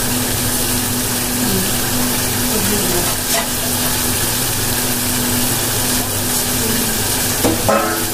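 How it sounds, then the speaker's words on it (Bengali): Spice paste stir-fried in a pan gives a loud, continuous sizzle, broken now and then by scraping stirs, with no voices. "মশলাটা সুন্দর করে কষাই নেব একদম ভালোভাবে।"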